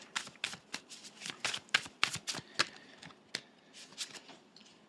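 Tarot cards shuffled by hand, a close series of crisp papery slaps and riffles in an irregular rhythm, some strokes sharper than others, heard alone without speech.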